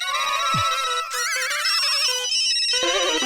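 A mobile phone ringtone plays loudly and close, a bright electronic melody that switches to a different tune partway through.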